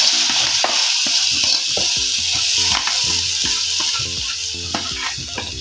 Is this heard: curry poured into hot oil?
yes